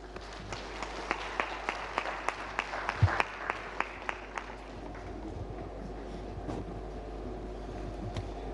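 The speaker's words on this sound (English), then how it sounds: "Please, let's give him another round of applause" An audience at a UNICEF ceremony for communities declared open defecation free applauds after a speech, with a steady run of distinct, evenly spaced claps that taper off into a low hum of room noise.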